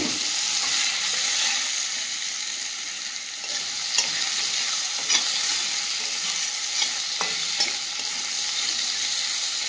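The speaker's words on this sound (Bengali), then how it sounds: "আলুটা কিছুক্ষণ ভেজে নেব।" Cut potatoes frying in a pan give a loud, continuous, close sizzle, with a few light clicks and scrapes of stirring scattered through it and no speech.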